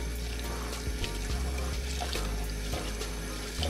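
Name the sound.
washing rice in water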